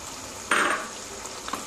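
Cornflour slurry poured into a pan of frying soya chili, giving one short, close sizzling hiss that swells and fades within a moment, followed by a couple of faint stirring clicks over a quiet background.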